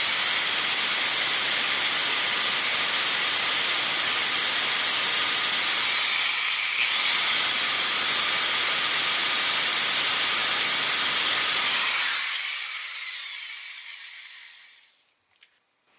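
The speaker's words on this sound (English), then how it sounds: "you'll see the speed of the drill increase" An electric drill powered through an autotransformer salvaged from an HID wall pack whines at a high, steady pitch, dips briefly midway, then winds down and fades to silence near the end.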